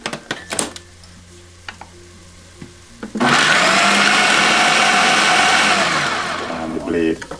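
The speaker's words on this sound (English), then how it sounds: "And then we are going to blend this down to powder." Countertop blender grinding chickpeas and walnuts into powder, a loud continuous roaring whir for about four seconds after a few quiet handling clicks, easing slightly before stopping with a short rattle.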